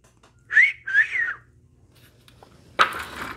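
A person whistles a short two-note tune, close and clear with no talking, between steps of reloading .357 Magnum cartridges at a bench, followed by a brief rustle of handling noise.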